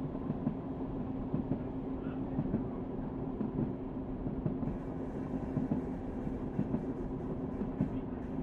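Diesel railcar train in Diesel Railcar Simulator running along with a steady low rumble and faint rhythmic clatter, moderately close and continuous throughout.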